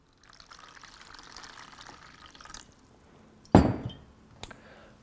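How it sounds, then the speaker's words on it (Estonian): Warm water from a jug pours briefly into a bowl, a soft trickle followed by a sharper splash and a faint clink against the bowl. "Selle jaoks on meil siin kannutäis sooja vett ja valame ta siia kaussi."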